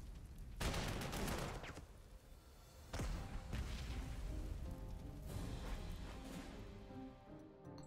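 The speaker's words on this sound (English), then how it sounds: "Oh, the counter battery fire." Counter-battery artillery fire in the Panzer Corps 2 strategy game: several booming bursts and a rattling barrage of explosions, with one sharp blast near the start and another around the midpoint, over a continuous rumbling background of gunfire.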